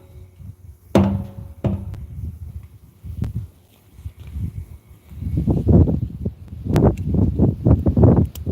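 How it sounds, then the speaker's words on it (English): Wind gusting outdoors at a hand-dug well site, rising in the second half into repeated loud, blustery surges after a few sharp knocks and thuds early on. "Wind is picking up."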